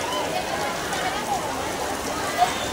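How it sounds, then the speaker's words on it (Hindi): Steady rain pours onto a katha pandal, the tent set up for a Shiv Mahapuran religious gathering in Bhilai, as a continuous even hiss with no breaks. "अभी बारिश के दिन है और अभी बारिश हो भी रहा है"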